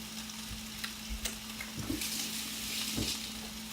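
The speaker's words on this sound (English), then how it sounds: "what I'm looking for is some browning going on in the rice and the pineapple" Rice and pineapple browning and caramelizing in a hot pan, a continuous soft sizzle with a low steady hum beneath and a few louder crackles and scrapes, close by with no talking.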